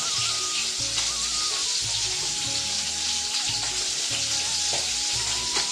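A fish head fries in a pan in a home kitchen, sizzling loudly and continuously up close with crackling spatter throughout and no talking.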